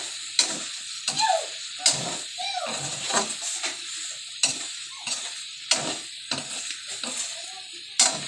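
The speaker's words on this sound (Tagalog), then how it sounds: "Nagmamantika na po siya." Oil sizzles in a frying pan as something is cooked at home, a steady crackling hiss broken by repeated scraping stirs and clatter of utensils against the pan, close and moderately loud.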